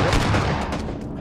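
A dense, loud burst of rapid gunfire from the PUBG battle royale shooter roars almost without a break and fades a little toward the end, with no voices over it.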